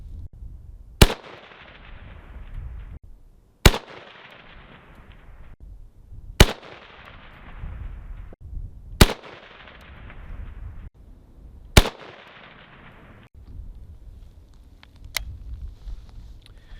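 Five AK rifle shots fired at a 400-yard outdoor range, each a sharp, loud crack followed by a fading echo, spaced a few seconds apart with quiet ambience between.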